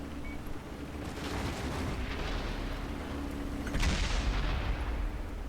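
The main gun of a T-28 Concept tank fires in World of Tanks, a heavy booming blast with rumbling decay that swells again near the end, loud and without talk.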